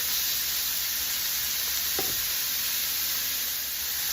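Steak searing in a pan, with a steady broadband sizzle throughout and one brief scrape of a spatula moving the meat partway through.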